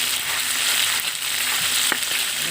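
Loud, steady crackling sizzle of ginger sautéing in leftover frying oil for chicken adobo, with a couple of sharp stirring scrapes near the end and no voices.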